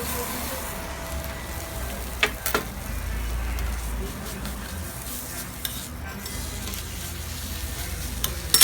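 Oil sizzles steadily in a pan as cheese melts in it, with occasional scraping and clinks of a utensil stirring the food.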